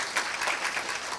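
Applause from a conference audience, a short dense burst of many hands clapping at moderate distance, alone and even throughout.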